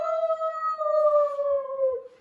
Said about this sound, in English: Suddenly, howls split the air.